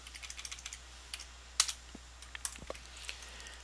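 Rapid computer keyboard typing while a file name is entered, clear close clicks in quick succession with a couple of sharper key strikes, over a faint steady low hum.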